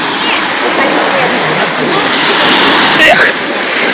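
Sea surf at Flamingo beach in Lazarevskoye in July, a steady, loud, broadband wash of waves rolling in continuously, close and unbroken throughout.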